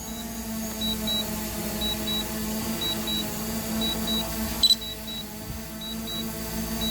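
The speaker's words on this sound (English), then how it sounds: "So now we got a bunch of beeps going." Pairs of short electronic beeps from a DJI Mavic Pro drone battery repeat at a steady interval over a constant mechanical hum, with a brief clack partway through.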